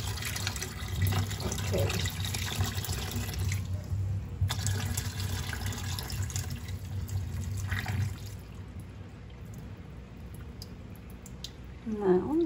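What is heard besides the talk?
tap water running while rinsing cilantro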